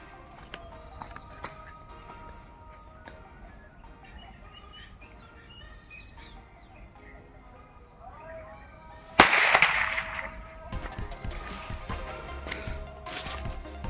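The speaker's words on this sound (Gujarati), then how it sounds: "આપણે બીડી બોમ્બ છે, જોરદાર મજા આવે છે ફોડવાની યાર બીડી બોમ્બ" Bidi bomb firecrackers for Diwali go off outdoors, one sharp loud burst midway followed by crackling and scattered smaller pops, after a quieter stretch of background noise and birdsong.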